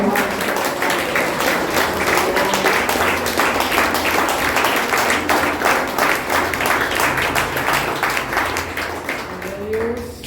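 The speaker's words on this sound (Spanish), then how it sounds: "Aplausos" A church congregation applauds during a sermon, sustained crowd clapping with distinct rapid hand strikes lasting about ten seconds, loud and close, with some voices mixed in and a fade at the end.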